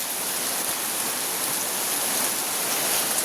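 Steady rain falls through a monsoon afternoon, a dense, even hiss of drops on surfaces that stays loud and constant with no voices over it.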